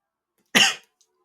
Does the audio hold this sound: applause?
no